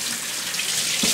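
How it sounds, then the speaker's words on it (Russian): Hands washed under a running tap, a steady close splashing hiss of faucet water into a sink, with a brief thump near the end and no talking. "Моем руки."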